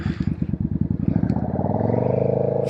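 Suzuki Marauder motorcycle built as a bobber, ridden on city roads: a loud, close engine with a rapid pulsing thump that smooths into a steady drone as it accelerates.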